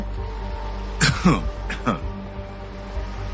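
Two short coughs, one near the one-second mark and another shortly after, standing out against a steady low background hum.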